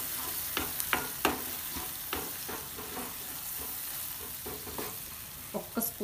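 Soya nuggets Manchurian with tomato ketchup being stirred in a pan gives a soft sizzle under repeated scraping strokes of a spoon, irregular and close, with nobody speaking.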